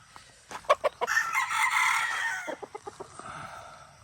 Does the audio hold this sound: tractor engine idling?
no